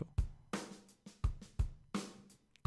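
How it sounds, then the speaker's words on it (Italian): Electronic drums tap out a sparse, steady beat of kick thumps and crisp snare hits, quiet and without other instruments. "che è un suono di una batteria elettronica"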